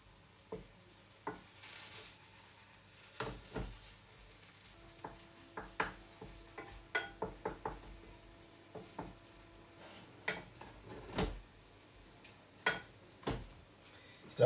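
Burger patties fry in a pan that had not fully heated, giving a soft, steady sizzle broken by scattered sharp clicks and taps of a utensil against the pan, close and without talk.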